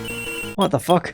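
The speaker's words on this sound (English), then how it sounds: "it's the phone." A cell phone rings in the Ace Attorney Investigations 2 video game, a bright repeating electronic tone under game music, followed by a startled spoken exclamation.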